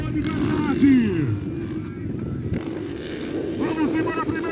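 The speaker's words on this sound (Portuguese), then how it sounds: "A turma vai acelerando bonito aí, acelerando bonito!" Motocross bikes in the 125 to 160 class accelerate on a wet race track, their engines whining and rising in pitch at a distance while an announcer talks excitedly over them.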